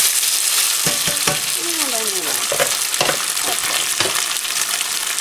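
Rice frying in hot coconut oil while being stirred, a loud, dense, steady sizzle up close with scattered scraping strokes and small clicks.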